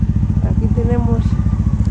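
A motorcycle loaded with flags and backpacks idles at the Pingüinos 2019 motorcycle rally campsite, its engine throbbing steadily and close by while a faint voice is heard over it.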